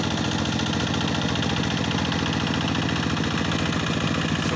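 A rice field tractor engine chugs steadily at a constant idle, a rhythmic mechanical throb that stays loud and unchanging throughout with no voices.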